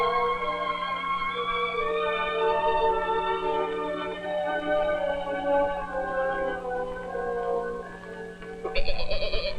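Goats bleating continuously during milking, a dense chorus of overlapping nasal cries close by, with a steady low hum underneath and a brief louder burst near the end.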